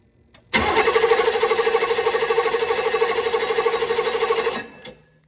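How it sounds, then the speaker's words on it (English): An M998 Humvee diesel engine cranks over with no start, a steady fast rhythmic churning of the starter that runs loud for about four seconds and then stops. "Go ahead and crank it over without that screw in there."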